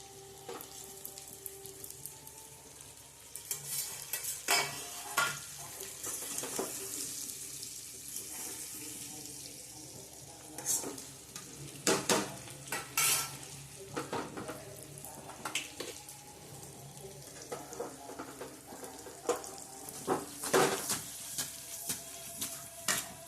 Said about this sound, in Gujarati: હવે નાખી દઈશું આપણે પાત્રા.